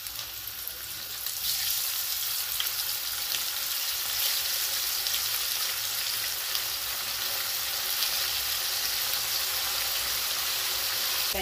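Sardines frying in hot oil in a pan, Moroccan style, give a steady, dense sizzle that builds slightly after the first couple of seconds and then holds loud and even throughout, with no talking.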